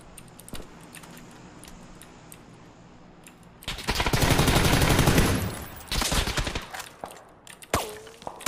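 Rapid automatic gunfire bursts loudly in PUBG, a dense rattling volley after scattered single shots, followed by more sporadic cracks and clicks up close.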